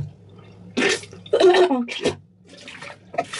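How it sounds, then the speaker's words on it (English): Water swished and rinsed around a mouth during a braces cleaning routine, heard as short wet gargling and splashing bursts close to the mic, with a brief spit-like burst near the end. "And I rinse my mouth."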